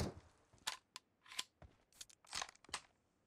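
Gunfire in the mobile shooter PUBG Mobile on the Livik map: a string of sharp, separate shots at irregular intervals, moderately loud and fairly close, heard alone without talk.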